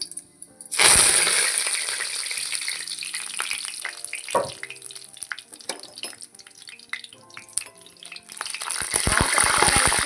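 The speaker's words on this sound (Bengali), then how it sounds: "জল ছিল ধোয়ার জন্য, এই জন্যই জলটা ছিটাচ্ছে" Freshly picked, still-wet curry leaves dropped into hot oil with garam masala, bursting into a loud crackling spatter that settles into softer sizzling pops before swelling again, no talking.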